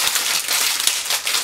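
Plastic foil crinkles as it is wrapped around the cable of Superlux HD681 EVO MKII headphones, a brief, close burst of dense crackling rustles.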